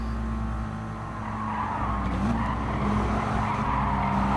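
A race car in the GT Sport video game slides after the throttle is lifted: a steady engine drone runs under a continuous tire skid and squeal that swells slightly toward the end.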